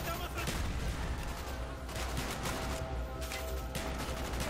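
Rapid fully automatic M16 gunfire in the first-person shooter Call of Duty: Black Ops, a dense unbroken stream of shots with crashing battle noise layered over it, sustained and loud throughout.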